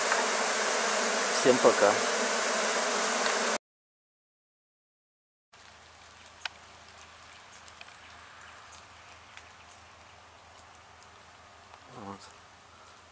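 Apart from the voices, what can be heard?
honey bees flying around a swarm trap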